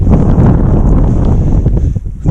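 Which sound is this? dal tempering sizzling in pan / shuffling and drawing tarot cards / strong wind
strong wind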